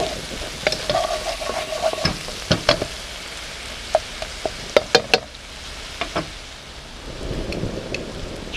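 Red curry paste with chili jam oil sizzles and caramelizes in a pan, a steady frying hiss broken by sharp clicks and scrapes of stirring, close and without talk.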